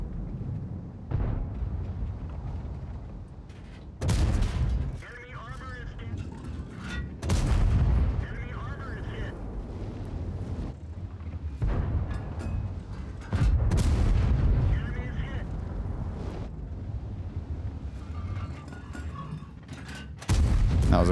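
Repeated deep tank gun shots in World of Tanks, about five loud booming blasts spaced several seconds apart over a steady engine and battle rumble, with someone speaking between them.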